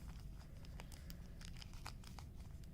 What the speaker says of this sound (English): I'm just going to tape up the part that I cut open.